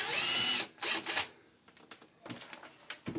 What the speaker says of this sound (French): Alors, on dévisse.